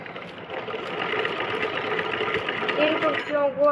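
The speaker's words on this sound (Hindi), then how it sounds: "ये इसकी हम सिलाई कर लेंगे आपस में।" A sewing machine runs continuously at close range, stitching two cut parts of a blouse together, with a steady mechanical whir and rhythmic needle chatter, and a brief voice near the end.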